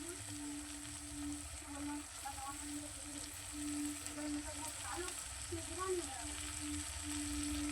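Meat sizzling and frying in a pan, a low steady crackle with faint stirring scrapes and a continuous hum underneath, heard throughout.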